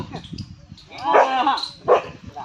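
A dog barks twice close by, short sharp yelps about a second apart, with soft shuffling and low background noise between them.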